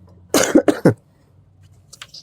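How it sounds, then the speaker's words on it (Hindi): Three quick coughs close to the microphone in a short cluster, then near silence with a faint brief noise. "खांसी हो गया है, सॉरी।"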